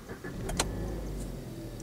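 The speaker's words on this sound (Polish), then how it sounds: "Teraz włączamy silnik." Hyundai i30 engine cranking and catching, then settling into a quiet, smooth idle, heard faintly from close by with a brief sharp mechanical click near the start.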